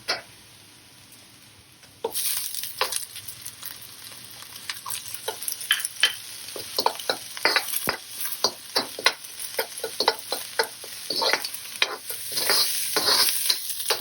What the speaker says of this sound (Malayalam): സവാള ഇട്ട് കൊടുക്കാം.